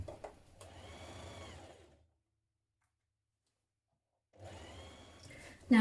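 Two close bursts of a sewing machine stitching a dress seam toward the centre back neck, with a clear stretch of silence between them.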